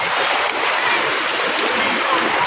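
Water rushes at Daranak Falls, a dense continuous stream roar that holds steady and fairly loud throughout.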